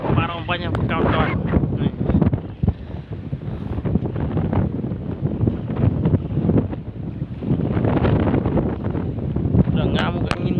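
A strong southern wind gusts at sea during a fishing trip near offshore fish aggregating rafts, roaring and buffeting the microphone in loud continuous bursts, with boat and water noise and a voice talking through it.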